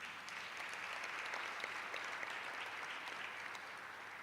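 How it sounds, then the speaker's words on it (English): Applause from an audience at a School of Entrepreneurship launch event, a steady, even wash of many hands clapping, fairly distant and moderately quiet, holding for several seconds without talk. "a massive round of applause."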